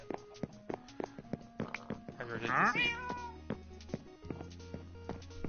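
A cat in the video game Minecraft gives a single clear meow midway, amid game music and light footstep-like taps.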